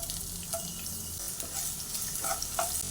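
Sliced onion and green chilli fry in hot coconut oil in a pan, giving a steady sizzle broken by a few sharper pops and brief stirring scrapes.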